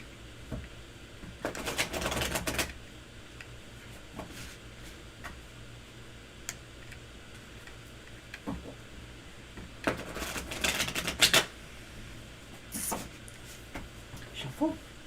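A deck of tarot cards is shuffled by hand close up, in two riffling bursts of papery flutter separated by a quiet stretch, with a few light taps in between and faint room noise underneath.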